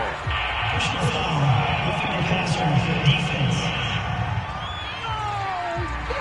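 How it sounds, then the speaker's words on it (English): A stadium crowd in Madden 22 murmurs and roars in disapproval after a penalty call during a Super Bowl game between the Rams and Chiefs, a steady wash of crowd noise with a voice speaking over it. "this crowd does not like that call"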